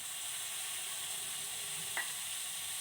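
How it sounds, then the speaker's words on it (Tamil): A tablespoon of ginger garlic paste sautés in a pan, giving a constant close sizzle and hiss with one faint scrape of stirring, no talking. "இது இஞ்சி பூண்டு ஒரு டேபிள் ஸ்பூன் அளவுக்கு போட்டிருக்கேன் இது நல்லா பச்சை வாடை போகிற வரைக்கும் நல்லா வதங்கட்டும்"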